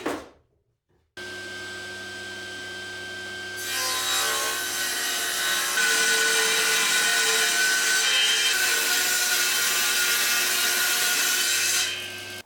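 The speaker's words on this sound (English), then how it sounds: "I can get them ripped into strips on the table saw" A table saw rips walnut, ash, maple and oak boards into strips: a steady motor hum rises into a loud, continuous rasping cut that runs for about eleven seconds, then winds down.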